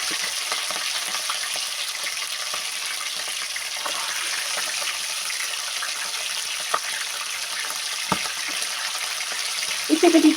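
Wazwan-style chicken frying in a pan, a dense, even hiss of hot oil running throughout with a couple of faint knocks and a brief clatter at the very end.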